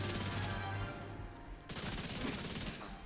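Rapid-fire weapon in The Division 2 shooting in fast automatic bursts, a continuous chattering stream briefly interrupted, then resuming, fairly loud with no talk.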